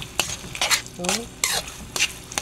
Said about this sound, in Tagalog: Tapos magpiprito ako ng talong.